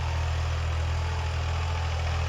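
A tractor stuck in a farm field runs with a steady, low, throbbing rumble, loud and close, with no other sounds standing out.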